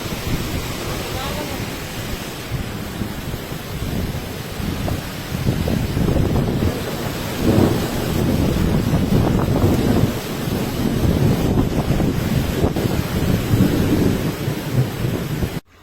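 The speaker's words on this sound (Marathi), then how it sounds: "पावसा ते वारं वगैरे सगळं सगळं चालू आहे" A monsoon storm in a Marathwada village, with strong wind buffeting the microphone and heavy rain roaring continuously up close, low rumbling gusts surging and easing throughout with no talk.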